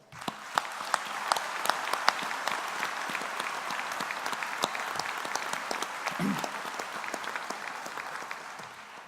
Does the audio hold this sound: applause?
yes